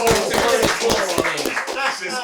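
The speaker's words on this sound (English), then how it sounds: "Oh, let's clap that up." A few people clapping in a casual podcast studio setting to celebrate a baby's six-month birthday, quick close claps mixed with overlapping talk and laughter.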